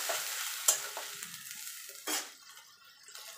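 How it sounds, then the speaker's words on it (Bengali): Ginger, garlic and tomato paste goes into a pan of frying onions, giving a quiet sizzle broken by a few sharp scrapes and stirring bursts. "এখানে আদা রসুন আর টমেটো যেটা পেস্ট করে রেখেছিলাম সেটা দিয়ে দেবো।"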